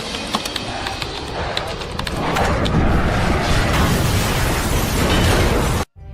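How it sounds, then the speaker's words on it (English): An explosion at Dubai Airport as the Boeing 777 of Emirates Flight 521 burns: sharp pops open into a loud, sustained roaring blast that swells after two seconds, then cuts off abruptly. "An explosion rocks Dubai Airport, a black cloud rises, and a Boeing 777 is engulfed in flames."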